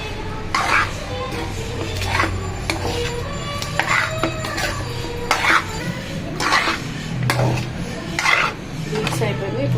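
Food is stirred in a vessel, with a spoon scraping and clinking in a regular rhythm about once a second, close and moderately loud over a low background.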